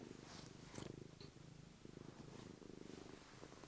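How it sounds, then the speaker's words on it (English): A cat purrs softly and steadily at close range, a low rhythmic rumble with a few small rustles. "Can you hear him purring?"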